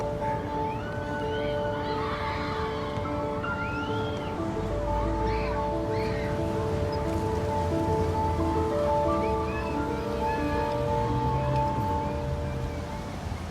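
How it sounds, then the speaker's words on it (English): Steady heavy rain pours down in a continuous wash with a low rumble, while faint sustained tones and brief voices sit underneath. "Looks like rain's coming."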